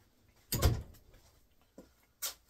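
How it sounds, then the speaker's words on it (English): A workshop door swings shut with one firm thud, followed by a softer bump and a short latch click, all quiet and close in an otherwise still room. "let me close this door."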